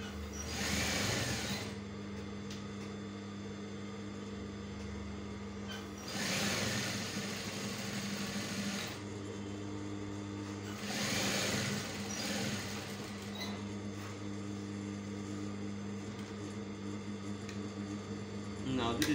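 A sewing machine stitching a narrow placket allowance on a garment, a steady close motor hum with three louder bursts of fast stitching, a voice talking over it.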